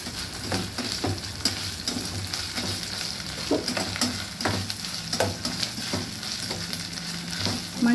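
Half a spoon of ginger garlic paste fries in a pan with a steady hissing sizzle, punctuated by spatula scrapes and small pops, close and continuous with no talking.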